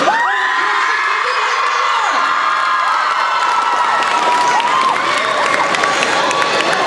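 A crowd at a dating game show screams and cheers continuously, with loud high-pitched shrieks and whoops rising over dense, steady audience noise throughout.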